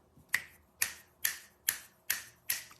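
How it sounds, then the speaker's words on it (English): Six crisp, sharp finger snaps in a steady rhythm, roughly every half second, close and clear against a quiet room with no talking. "Forgot I can't snap my fingers because you know who comes in"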